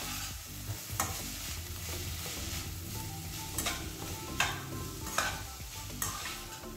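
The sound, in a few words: stirring chicken filling with chili flakes in a pan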